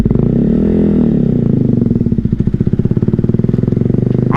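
A 125cc motorcycle engine runs close and loud, revving up and easing back early, then settling into a steady, fast chugging idle while the rider struggles to shift into first gear.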